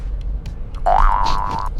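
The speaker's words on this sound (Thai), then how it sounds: "ข้อเสียของถุงลม คือ ถ้าคุณยืดรถสุดแล้วคุณไม่เอาลง มันจะเด้งแบบนี้" Air suspension on a lowered Honda Freed, raised to full height, gives a springy boing lasting under a second. It is fairly loud and close over a low background rumble.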